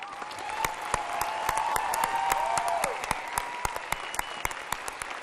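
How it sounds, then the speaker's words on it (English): Commencement audience applauding graduates at an alternative university ceremony, a steady wash of many hands clapping throughout, sharp individual claps popping out near, with a brief sustained tone or whistle mid-way. "we'd like to first give a round of applause to the graduates one more time."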